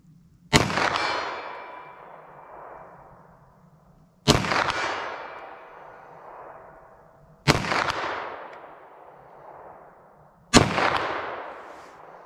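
Four sharp 9mm +P+ handgun shots fired at a target, spaced roughly three seconds apart, each a loud close crack followed by a long ringing decay.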